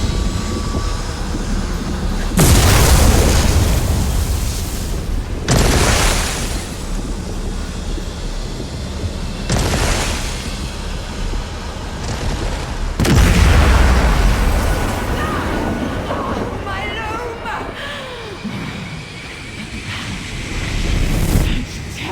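A loom is destroyed with the Abolisher in The Elder Scrolls Online, set off by a string of loud, deep booming explosions. Four heavy blasts roll out at roughly even intervals, each with a long rumbling tail, and no voices are heard.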